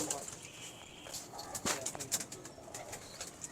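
A large jumbo-size pigeon gives soft, low coos, faint behind a noisy background with scattered chirps and brief sounds.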